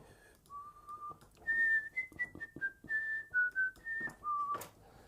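A short flute-like line of sustained, slightly wavering notes follows a simple melody over faint background noise, quiet and close.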